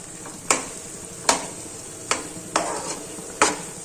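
Farali rajgira sheera stirred in a pan with ghee: five sharp spoon-on-pan clacks at uneven intervals over a soft background sizzle, close and alone.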